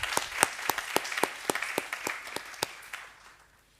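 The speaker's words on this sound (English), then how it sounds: "let's just give those people a round of applause" A small audience at a book launch claps for the book reviewers, sparse individual hand claps ringing out distinctly at a fairly quick pace. Fairly quiet and close, tapering off toward the end.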